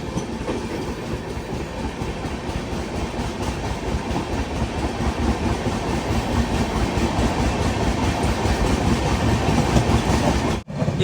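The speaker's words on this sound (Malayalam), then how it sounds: "ബറോണി അഹമ്മദാബാദ് എക്സ്പ്രസ്." A steady, loud stream of rhythmic clickety-clack and rumbling as the Barauni–Ahmedabad Express rolls by close at hand, building slightly over time before a brief dropout near the end.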